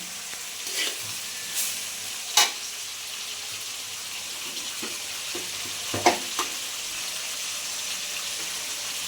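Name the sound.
spices frying in a pan for bhuna khichuri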